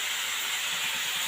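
A gas stove burner hisses in a steady, even rush while pork is being cooked, the flame held at a lowered setting with no pauses or breaks.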